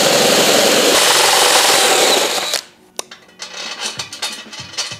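A power drill fitted with a step bit grinds loudly and steadily through a Honda Shadow bobber's rear fender, then stops abruptly, followed by scattered handling clicks and rattles.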